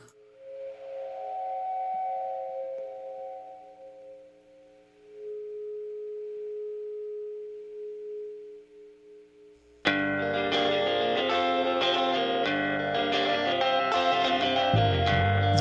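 An experimental 90s-style guitar song excerpt: a quiet passage of sustained, echoing tones opens, then a dense, loud band section with distorted guitar kicks in abruptly and plays on steadily.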